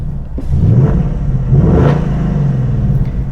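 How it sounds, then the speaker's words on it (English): A 2023 Ford Mustang Mach 1 V8 is revved in its loudest exhaust mode, giving a deep, close rumble with two or three rising revs that swell and settle over a steady low idle. "Let me put it in the loudest exhaust."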